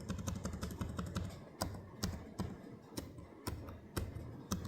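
Keys clack on a 2025 Razer Blade 14 gaming laptop keyboard as someone types in quick irregular bursts, each crisp click close and distinct, with no voices.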